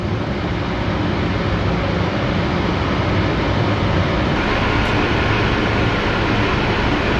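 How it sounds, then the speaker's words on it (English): A steam boiler burner with its main flame lit roars as a steady, broadband rush, loud and unbroken from start to finish, with no voices over it. "My pilot is on. Now I have a main flame."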